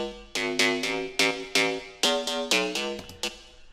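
Mid-range future house bass synth programmed in Ableton Live 10, playing a bouncy pattern of short, bright plucked notes in a rhythmic groove, upfront and alone with no other sounds.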